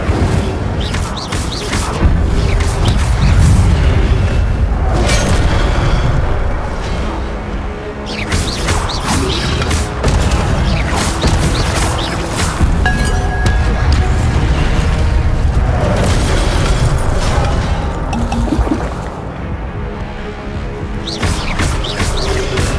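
Fire spell casts in the Hogwarts Legacy video game: loud, dense bursts and whooshing blasts stacked over a busy, continuous wash of combat effects and score, swelling and dipping across the stretch.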